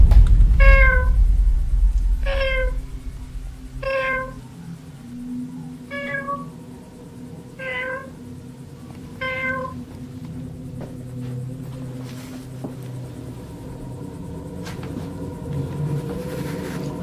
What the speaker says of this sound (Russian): Уже неоднократно слышал мяуканье.